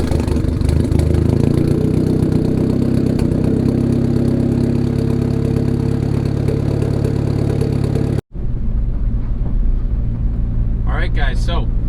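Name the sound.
turbocharged Honda Accord engine starting and running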